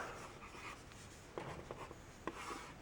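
A stylus scratching across an LCD writing tablet as someone writes a word, soft quiet strokes in short bursts with small taps.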